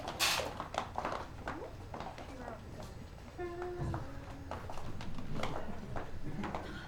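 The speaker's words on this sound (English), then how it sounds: "They took my horse." Hooves of a horse clip-clop on the ground in a staged mystery show scene, a faint, irregular run of hoofbeats under scattered voices and background commotion.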